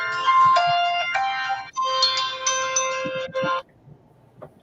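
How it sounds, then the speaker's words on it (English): Electronic computer phone ringtone plays a bright melodic pattern in bursts, then stops, leaving quiet room noise. "That was the phone on the computer."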